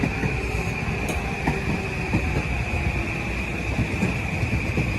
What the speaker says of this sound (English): And the local train is coming to Stamford